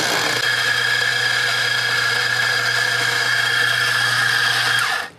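Electric coffee grinder grinding coffee beans, a steady high whine held for about five seconds before cutting off abruptly, close and loud, no talk.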